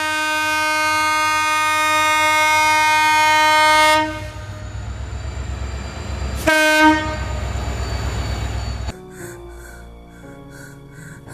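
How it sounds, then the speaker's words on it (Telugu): A train passes close by while sounding a loud, sustained multi-tone horn, then cuts off. A second short horn blast follows amid the rumble of rolling cars, which fades toward the end. "అదిగోరా ట్రైన్ వస్తుంది"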